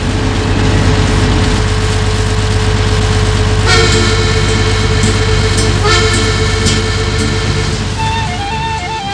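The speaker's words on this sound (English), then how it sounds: "Admittedly, the ship itself is very different, particularly the engine." A ship's engine runs aboard a working vessel, a loud steady throbbing drone with even low-pitched pulsing throughout, joined by a few brief tonal toots or hooting notes midway, with no talk.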